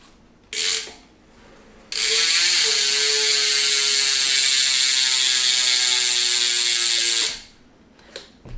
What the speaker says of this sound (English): another key feature of the bike that I wanted to show you is the sound, which sounds a little bit odd for a bike